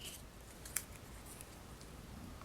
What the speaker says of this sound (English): do your V-cut into because you've got these stripes that will help you keep the scissors straight